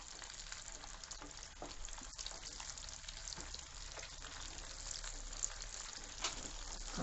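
Chicken pieces half-frying in hot oil for a restaurant-style gravy, a continuous crackling sizzle with scattered pops and the occasional stir, steady and close with no talking.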